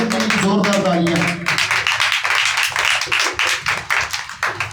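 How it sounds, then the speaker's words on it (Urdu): A church congregation claps loudly in quick, steady rhythm at a worship service, the dense crowd clapping continuing under a voice that speaks and calls out at the start. "زوردار تالیاں خدا یسوع کے لیے بجائیے"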